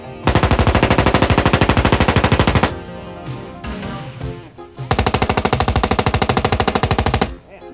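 Machine guns fire on full auto in two long, loud, rapid bursts of evenly spaced shots, separated by a short gap filled with scattered echoing shots and clatter.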